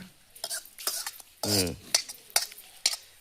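A spoon stirs curd rice in a metal pot, giving scraping, clinking strokes at an uneven rhythm, with a brief voice-like sound in the middle.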